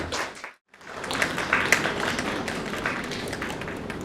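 An audience at a local awards event clapping for parents. After a brief pause, applause builds into a dense, steady patter of many hands.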